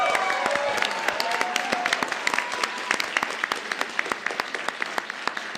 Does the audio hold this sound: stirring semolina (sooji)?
no